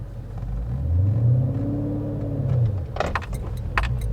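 A 425 hp Dodge Challenger SRT8 with a manual gearbox pulls away in first gear, its deep engine rumble rising and settling close by, followed by a few brief rattles near the end.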